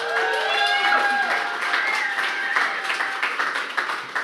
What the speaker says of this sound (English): How about a round of applause for Carrie?